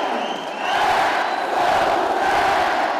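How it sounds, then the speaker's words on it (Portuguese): A home basketball crowd in a gym cheers and roars wildly near the end of a game, a dense, sustained wall of voices that swells after the first half second. "A torcida ficou enlouquecida no ginásio"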